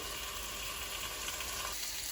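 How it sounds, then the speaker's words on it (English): Fish fillets sizzle in a light drizzle of olive oil in a hot pan, a soft, steady crackling hiss heard on its own at low level. "Lovely sizzle."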